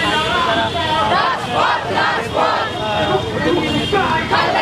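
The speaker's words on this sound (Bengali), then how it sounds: "স্লোগান দিচ্ছেন" Pro-BNP Supreme Court lawyers chant slogans at a protest march in Bangladesh, a loud, dense crowd of voices shouting in rhythmic unison without pause.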